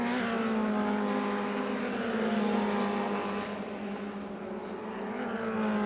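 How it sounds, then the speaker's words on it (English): MRF Formula 2000 race cars roar past on a circuit, a steady high-pitched engine drone with strong tonal whine that swells and eases slightly, loud and continuous with no talking. "But the race leaders now on lap 13 of 15, and Harry Newey getting closer and closer"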